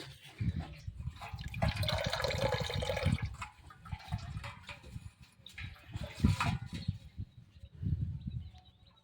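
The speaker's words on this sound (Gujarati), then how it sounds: "પાણીની મોટર ચાલુ છે" Water from a motor-driven pump at a farm flowing out and splashing, uneven gushing and trickling bursts at moderate level, with faint bird calls and no speech.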